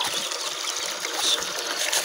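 Countryside river water flowing and gushing, a steady rushing wash close by with a slight surge near the end, no talking.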